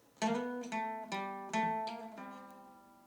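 A guitar riff played alone, with the fretting hand sliding and pulling off notes. Several plucked notes and short chords come in an uneven rhythm, close and clear but soft.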